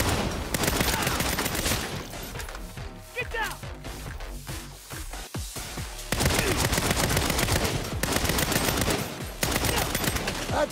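Heavy gunfire from Saints Row, dense rapid bursts like machine-gun fusillades filling most of the stretch, with a brief thinner lull midway before the shooting returns loud and sustained, voices faintly mixed in.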